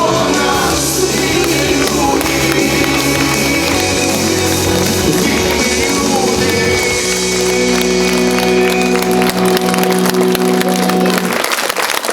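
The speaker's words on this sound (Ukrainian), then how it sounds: "Своїм виконанням музиканти зірвали шквал аплодисментів." Concert audience at an Independence Day evening concert in Yuzhne breaks into a dense, sustained wave of applause with crowd noise, loud and continuous throughout, with some music tones sustained underneath toward the end.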